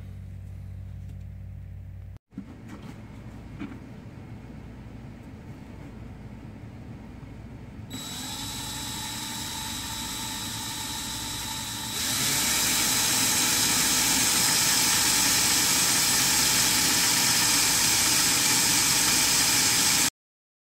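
A drill boring a pilot hole into a Tesla Model 3 trim panel, its whine starting after a quiet stretch and rising in two steps to a loud, steady high-pitched hum.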